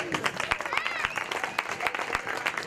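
An audience at a live comedy show claps, a brief burst of dense applause with scattered sharper claps and some crowd voices mixed in.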